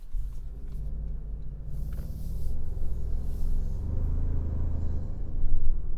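A 2025 Toyota 4Runner Trailhunter 4WD accelerating hard in Sport mode, heard from inside as a deep engine rumble that builds steadily in loudness and peaks toward the end.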